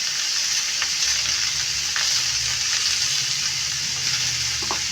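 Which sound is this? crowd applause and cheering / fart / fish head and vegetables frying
fish head and vegetables frying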